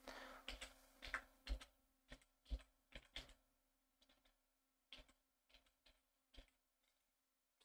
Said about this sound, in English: If I type provide some content idea based on this keyword